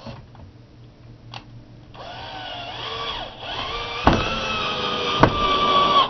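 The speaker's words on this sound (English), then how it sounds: "I'm going to screw it down here" A power drill drives screws into wood to hold down a homemade table-saw jig, its motor whirring up and down in several rising bursts with a couple of sharp clicks, close and fairly loud.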